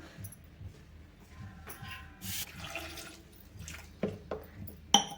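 Water splashes and trickles into a sambar pot of vegetables, running unevenly for several seconds with a few louder plops near the end.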